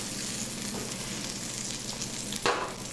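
Egg-and-cheese sandwich bread browns in a pan after being flipped, a soft continuous sizzle close by with one brief sharper scrape or clatter near the end, no voices.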